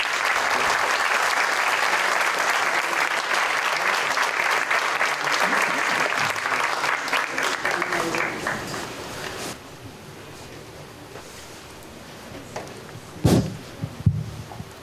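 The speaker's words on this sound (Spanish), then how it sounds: "recibimos con un aplauso de bienvenida al señor director de nuestra Facultad de Contaduría y Administración" An audience in a full university faculty hall gives welcoming applause, loud dense clapping for about nine seconds that thins into scattered claps, with a few knocks and bumps near the end.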